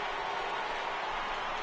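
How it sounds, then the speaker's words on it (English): Crowd murmuring in the stands of an MLB The Show baseball game, a dense, steady wash of distant voices and hubbub with no distinct words, continuous and fairly loud throughout. "I can hear the crowd murmuring now"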